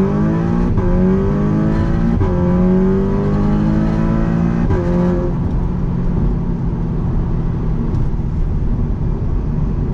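An Audi MK2 8J TTS fitted with a GFB DV+ diverter valve drives along, its engine rising in pitch through several revving gear pulls with brief dips between shifts, steady and close.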